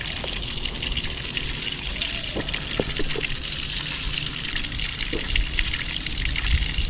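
Water gushes steadily from a hose or pipe while plants are watered during a drought, a constant close rush with a few faint clinks and splashes in the background.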